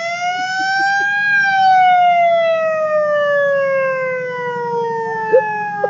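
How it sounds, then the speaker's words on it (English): A siren on a 1963 Chevrolet Impala police car wails loudly and close by, one long tone sliding up and then gradually falling, over a low engine hum. "It's got the siren,"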